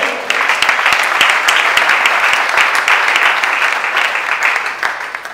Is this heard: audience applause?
yes